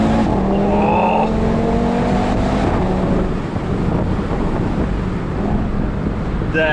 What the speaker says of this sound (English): you put your foot on the loud pedal and the response is instant